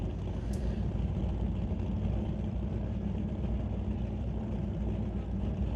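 A 1967 Chevy II drag car in the Super Combo class runs on its throttle stop, giving a steady, dense engine rumble that holds evenly throughout with no voices.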